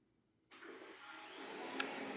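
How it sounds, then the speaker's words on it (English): A Shark robot vacuum switches on with an abrupt start, then settles into a steady whirring motor and brush hum, close by and fairly quiet in a home. "And there the vacuum goes."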